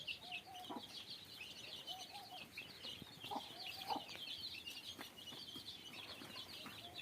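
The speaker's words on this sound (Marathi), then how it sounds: "ती गोठ्यात येते गोठ्यात मस्त चरती कोंबडी पण" A hen clucks softly in short bursts in a cattle shed amid a dense chorus of chirping birds, with occasional light rustles nearby.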